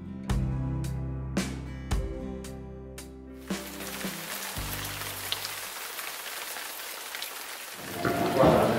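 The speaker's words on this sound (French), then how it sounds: "Aujourd'hui, ça y est, c'est arrivé, c'est la pluie" Rain on the Camino Primitivo pilgrimage trail in Spain builds into a steady hiss after several sustained piano-like tones at the start, the downpour continuing evenly at moderate loudness with no talking.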